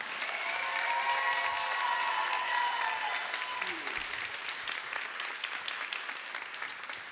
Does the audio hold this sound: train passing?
no